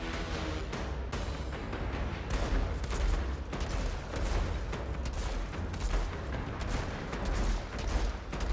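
Gunfire in a video game during a sniper fight, a rapid series of sharp shots crackling fairly quietly over a constant busy background, with no voices.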